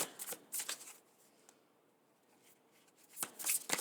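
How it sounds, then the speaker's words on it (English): Tarot cards are shuffled in two bursts of quick, riffling flutters close by, separated by a quiet pause, with no voices. "I hope that the cards aren't too noisy for the mic."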